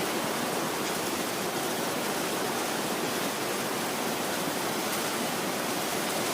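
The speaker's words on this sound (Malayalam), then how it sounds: "വല്ലാത്ത മഴ." Heavy rain pours down in a dense, steady roar that stays loud and unbroken from start to finish, with no voices.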